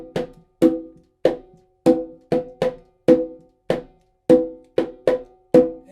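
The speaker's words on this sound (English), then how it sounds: "in your left hand, you're gonna play in the conga el repicador" Sparse hand drumming on a conga plays a repicador-style plena pattern with the left hand: about a dozen sharp, ringing slaps and open tones in an uneven rhythm, close and fairly loud with short decays, no talking.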